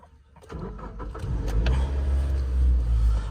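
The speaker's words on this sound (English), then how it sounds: "I'll just start it up quickly." A 2004 Suzuki Grand Vitara with a 2.0 petrol chain-driven engine, 122,000 miles, cranks and fires up, then settles into a steady, loud low idle rumble close by.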